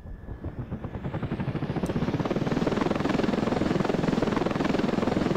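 Helicopter in the video game Ravenfield, its rotor thumping rhythmically as it spins up from a pulsing start into a loud, dense, continuous whir, close and alone.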